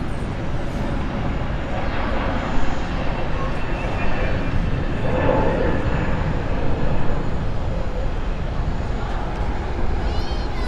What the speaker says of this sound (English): And this is Swiss 86 flight.